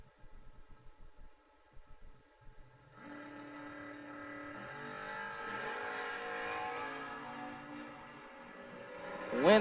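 A first-generation Camaro and a square-body pickup at a drag race. The start is quiet with light knocks, then a loud engine roar swells in and holds, rising in pitch as the cars run.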